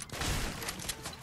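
Rapid gunfire from a desert-zone shooter game played on PS5 crackles steadily for the whole moment, a dense fusillade of bursts without a break and no voices over it.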